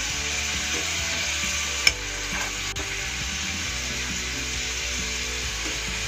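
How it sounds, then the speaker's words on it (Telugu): Paneer frying in oil in a pan over a medium flame, giving an even, continuous close sizzle with a single sharp click partway through. "చక్కగా పన్నీర్ని కడుక్కొని శుభ్రంగా మనం ఇట్లా ఆయిల్లో ఫ్రై చేసుకోవాలి"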